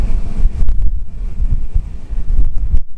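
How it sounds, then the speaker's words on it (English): Strong gusting wind on a boat deck buffets the microphone with heavy low rumbles, rising and falling in bursts, close and loud. "It's very windy also when you're like standing out here,"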